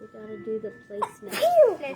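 A single abrupt sneeze bursts out partway through, close and loud, amid family chatter while a Valentine gnome decoration is being made.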